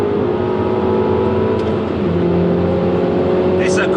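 A 2020 Mini JCW DT Edition engine pulls hard through the gears, a continuous loud drone that drops briefly at a gear change, with someone talking over it.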